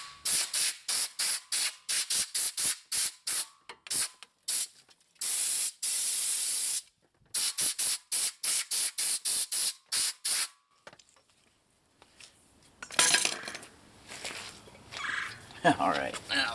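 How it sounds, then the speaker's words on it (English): Compressed air blasts in short bursts at a 2003-2007 Honda Accord rear wheel bearing, loud and close, stopping and starting in a rapid rhythm, with a broader rustling hiss near the end. "if you start off with air and then move to brake clean"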